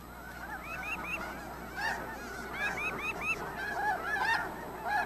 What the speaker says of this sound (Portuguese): Os gansos da neve conseguiram com dificuldade encontrar uma pequena área sem gelo para fazer seu ninho